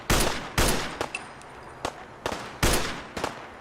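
Rifle fire from a magazine-fed M1A1 in Fallout 4: several loud, sharp single shots spaced irregularly, each followed by a short echoing tail, with a few fainter pops in between.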